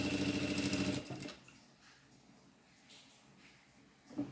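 A sewing machine topstitching trousers runs in a fast, loud, even whir for about a second, then stops, leaving quiet handling noises and a faint clunk near the end.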